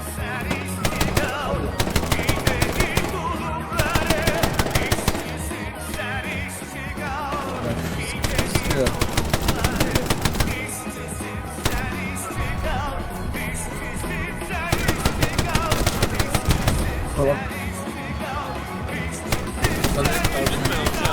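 Gunfire in a World War II shooter video game, loud sustained bursts of rapid automatic fire with brief gaps, heavy and close, with players talking beneath it.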